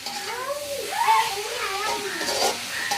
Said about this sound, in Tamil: வெங்காயம் வதங்கி கொண்டு இடையிலேயே நாங்கள் அடுத்த வந்து கறிமிளகா போட்டு வதக்குறோமே அதுவும் சேர்ந்து நல்லா பொரியணும்